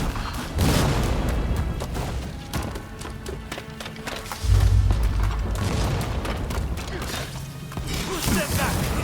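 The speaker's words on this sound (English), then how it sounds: "Fire the cannon!" Cannon fire in a battle in Rise of the Ronin, with heavy booms and splintering wood crashes landing at about 0.6 and 4.5 seconds over a constant din of combat.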